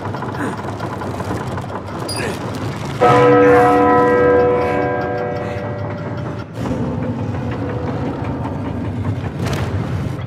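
A large bell in the Uncharted 4 video game strikes once loudly and rings out with a long, slowly fading tone, heard over steady rumbling background game ambience.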